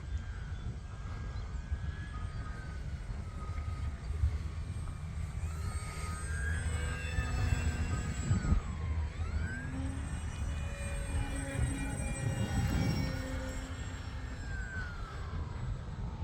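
Small E-flite Pitts 850mm RC biplane on a 4S battery flying overhead outdoors, a faint electric motor whine drifting and shifting pitch as it loops and passes, with light background noise throughout.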